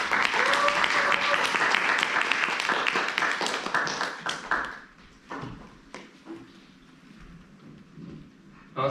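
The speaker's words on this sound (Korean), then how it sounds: "큰 박수로 환영해 주십시오" An indoor seminar audience in Gwangju claps to welcome a marketing director to the stage, a dense burst of applause that thins out after about five seconds into scattered claps and room noise.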